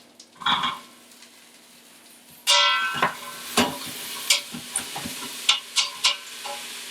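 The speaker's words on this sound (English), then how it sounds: "So you'll just let that cook for about 4 to 5 minutes, I would say, until the onions are yellow." Two medium onions sautéing in an Instant Pot for clam chowder: a loud sizzle bursts in as they hit the hot pot, followed by a string of crackles and spoon clacks, close and with no talking.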